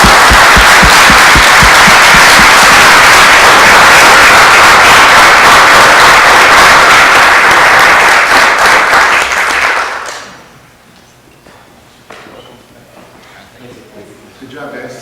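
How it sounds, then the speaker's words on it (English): Loud, close applause at a regular council meeting, a dense wash of clapping for about ten seconds that then fades quickly into quiet room noise and faint voices. "Let's give him a round of applause."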